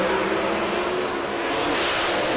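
A Pro Mod drag race car makes a run at the World Series of Pro Mod in Bradenton, a continuous broad roar heard from a distance without a break.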